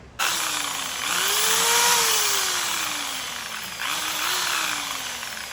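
Power drill boring holes through the underside of a Honda Navi motorcycle handlebar during a mid-rise handlebar install, a loud steady whine that drops in pitch under load, pauses briefly, then spins up again for a second bore.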